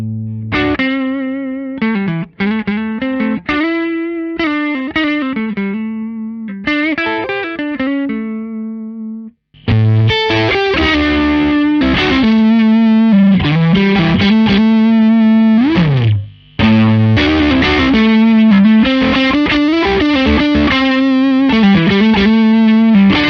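An electric guitar played through ODR-1 overdrive pedals gives a crunchy, distorted tone, with picked chords and notes ringing out in loud phrases broken by two short pauses.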